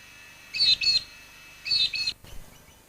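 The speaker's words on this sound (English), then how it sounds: "In the morning you can see some of the parrots cleaning themselves at the dam." Parrots calling at a farm dam among mallee trees, two close bursts of shrill, repeated chirping calls about a second apart, followed by a faint rustle against a quiet outdoor background.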